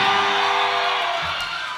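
A concert crowd at a live rock show in Sydney screams a sustained, loud "yeah" together, a dense wall of massed voices that swells and holds for almost two seconds.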